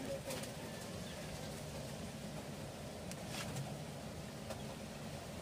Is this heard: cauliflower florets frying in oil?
no